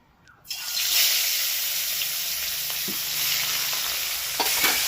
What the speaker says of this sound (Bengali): মাছগুলোকে এক এক করে ভিজে নেব দুটো দুটো করে ভাজবো